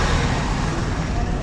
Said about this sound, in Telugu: అదిగో బాయ్ మీదే వస్తుంది చూడు, బస్సు మీదే